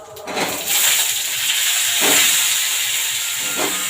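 Washed cauliflower florets fry in hot oil with dried red chilli and tempering spices, giving a steady broad hiss of steam and sizzle that swells in a few surges.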